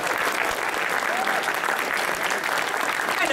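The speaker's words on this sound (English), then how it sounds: "give a round of applause for these 2" A crowd applauds two participants at a theme park adventure event, a loud, continuous wash of clapping with a few faint voices underneath, steady throughout.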